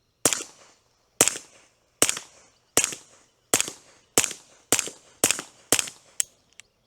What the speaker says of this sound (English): I took out at the range to show you how the Hush Point 22 sounds.